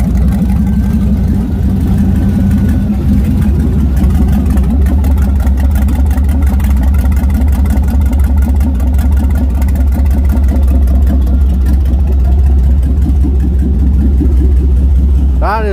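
A stock 6.0 V8 taken from a 2005 Cadillac Escalade, fitted in a race car, runs loud and close with a deep, steady rumble and slight rises in revs, while someone talks over it.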